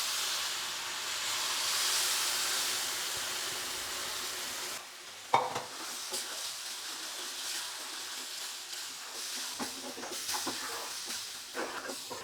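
Ragi flour frying in a pan as jaggery syrup is added, with a steady sizzling hiss that drops in level partway, then scraping stirring strokes and scattered clicks from the spoon against the pan.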